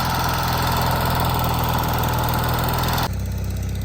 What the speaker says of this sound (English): That's my husband on his little tractor, kind of clearing some of the aisles.